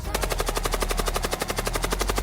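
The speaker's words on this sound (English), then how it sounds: "we can now bring in some gun effects" Rapid machine-gun fire added as a sound effect in a music video intro, a fast even burst of shots repeating steadily and loudly over a deep low rumble.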